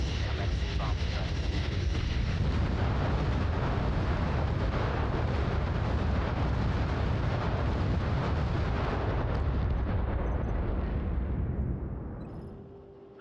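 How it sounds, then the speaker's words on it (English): Bomb strike in the strategy video game Crossfire Legion: a continuous, loud wall of rumbling explosions and blasts sustained for many seconds, then fading away at the end. "Commencing bomb strike."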